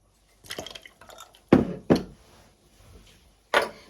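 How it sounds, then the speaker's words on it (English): Simple syrup and fresh grapefruit juice poured over ice into a cocktail shaker for a virgin paloma mocktail, heard as a few short, close splashes and drips with brief pauses between them, no talking. "I'm going to go ahead with 1 ounce simple syrup and 2 ounces of fresh grapefruit juice"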